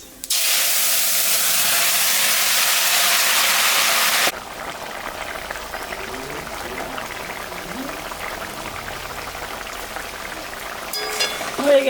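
Curry gravy hits hot oil tempered with dry red chillies and cumin, setting off a loud, dense burst of sizzling hiss for about four seconds that then drops abruptly to a low, steady simmer with faint kitchen clatter.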